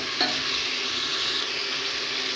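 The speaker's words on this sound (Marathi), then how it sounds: "सगळ्या भाज्या करून फ्राय करून घ्यायच्या" Mixed vegetables frying in a pan make a dense, even sizzle at a steady level with one faint clink near the start, close and without speech.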